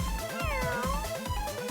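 Sushi Cat, a cat character in the video game Epic Battle Fantasy 5, gives a clear, close meow, a short bright call with a falling pitch.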